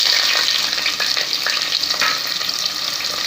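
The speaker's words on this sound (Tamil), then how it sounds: "வெங்காயம் நல்லா பொன்னிறம் ஆகிற வரைக்கும் கொஞ்சம் நல்லா வதக்கிக்கோங்க." Three chopped onions sizzle in a pan as they are sautéed until golden for tomato rice, a loud steady frying hiss close by with soft stirring scrapes mixed in.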